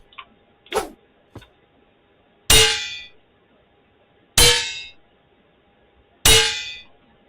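Three loud, ringing metallic clangs of a shield blocking attacks in the video game Alaloth: Champions of the Four Kingdoms, evenly spaced about two seconds apart, each decaying slowly, preceded by a couple of faint ticks.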